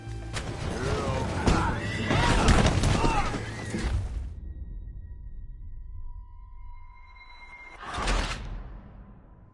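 Horse whinny from Red Dead Redemption 2, a loud neigh under game dialogue and bustle, followed after a quiet stretch by a second short burst near the end.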